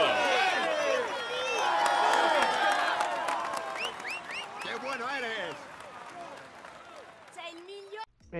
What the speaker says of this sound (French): Allez, on l'applaudit encore.